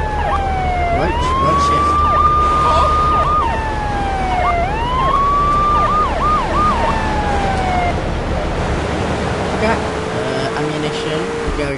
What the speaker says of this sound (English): So that had to put the siren on.